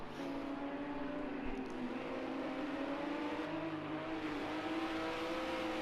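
Cadillac GT3 race car in a sim racing game, its engine holding a steady droning tone that shifts pitch slightly as it runs, continuous and fairly close, with no voices over it.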